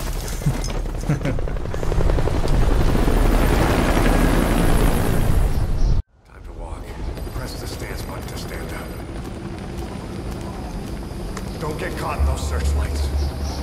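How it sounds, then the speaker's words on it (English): Loud, continuous helicopter rotor drone with heavy rumble in the video game Metal Gear Solid V: The Phantom Pain, cutting out abruptly midway, then resuming slightly quieter with scattered mechanical noises layered over it. "Helicopter searching the building."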